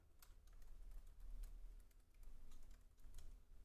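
Keys clatter on a custom computer keyboard running Nim firmware, a quick irregular run of soft clicks and taps, close and quiet, with no voices.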